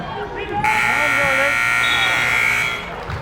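A loud, steady electronic buzzer ending a high school basketball quarter blares for about two seconds over a noisy gym crowd and an announcer's voice, then cuts off.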